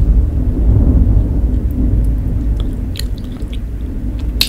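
Heavy evening thunderstorm with a continuous deep rumble of thunder and steady rain noise, loud and dense throughout, with scattered crackling ticks near the end; no speech.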